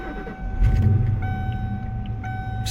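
A manual-shift car engine cranks and catches, swelling into a low rumbling idle that holds steady and close, with a faint high whine above it and no talking.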